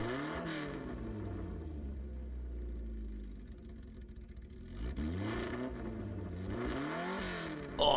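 A car engine in Gran Turismo 7 holds a low steady drone, then climbs through a couple of sharp revving surges near the end, clear and close with no talking.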